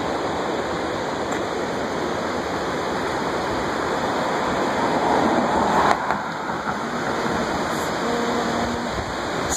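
The Kaweah River near Three Rivers rushes steadily, a loud broad roar of flowing water filling the whole stretch, with no voices.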